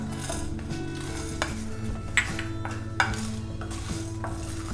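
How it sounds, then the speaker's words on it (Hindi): Whole spices (green cardamom, cumin, cloves, black pepper) dry roasting in a pan make a dry rattling and scraping of stirring, with light clinks of a utensil against the pan, close and moderately loud, without speech. "ये तब तक भूनेंगे जब तक इनमें सौंधी सौंधी खुशबू नहीं आने लगे और ये पूरी तरह ड्राई नहीं हो जाए।"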